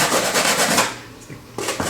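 Sandpaper is rubbed by hand back and forth, close and fairly loud, in several rasping strokes that fade into a quieter pause before the scraping picks up again, with no talking.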